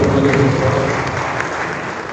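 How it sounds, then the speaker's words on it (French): A crowd at a youth opportunity fair in the Democratic Republic of the Congo applauds with dense, steady clapping that holds at an even level throughout. "Vos acclamations, s'il vous plaît"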